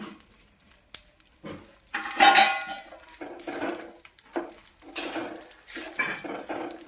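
Dry ginger, cardamom powder and grated coconut being stirred into an adadiya mixture in a pot, with scraping and clinking of a utensil against the vessel in irregular bursts, fairly close and moderately loud, no talking.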